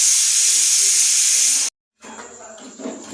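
Ghee cooks in a pan with a loud, bright hissing sizzle, cutting off sharply for a moment, then returning more faintly with soft bubbling and a little background movement.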